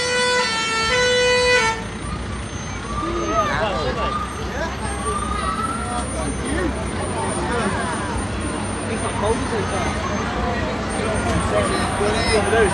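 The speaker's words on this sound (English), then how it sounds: "So they bring out the sort of the fire engines out first before the floats." Fire engines lead a carnival procession, opening with a short loud siren wail or horn blast, then heavy vehicle rumble passes close by amid crowd noise, whistles and people talking.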